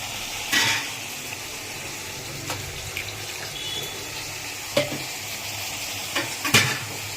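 Fish coated in spice paste sizzles and is stirred in a pan as a little water is added, a soft steady crackle with a few short louder bursts of scraping and splashing.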